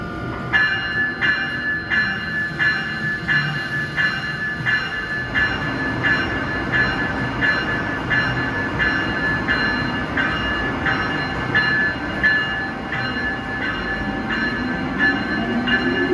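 Trains moving through Newark Penn Station at rush hour, a steady rumbling roar with rhythmic clicking of wheels over rail joints and faint squeal, continuous and fairly close, with no talk.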